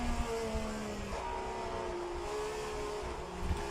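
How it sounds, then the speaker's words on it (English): Simulated 1967 Formula 1 car engine from a racing video game set at Monaco, a steady continuous drone with sustained tonal harmonics throughout, moderately loud with no talk. "the engine sounds are not yet properly fixed, so you will hear a bit of weird transition from on throttle to off throttle"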